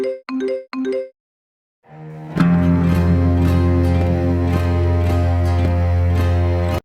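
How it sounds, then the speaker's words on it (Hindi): Electronic tones from a mobile phone sound: three short, bright chimes in quick succession, a pause, then a sustained, ringtone-like melodic tone with steady rhythmic pulses. "बैकग्राउंड में मोबाइल की टन-टन आवाजें सुनाई देती हैं"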